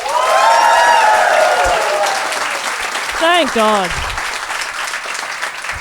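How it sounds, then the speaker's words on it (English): Live comedy show audience in London breaks into loud, sustained applause and cheering that fades over a few seconds, followed by someone speaking briefly over the dying claps. "give me a round of applause if you have heard Do Go On before"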